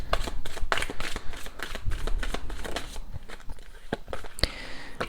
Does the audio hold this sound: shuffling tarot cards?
yes